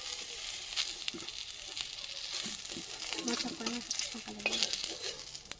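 Eggplant slices frying in hot oil in a pan sizzle steadily with a hissing crackle, and scattered light scraping and stirring noises sit over the frying, close and moderately loud.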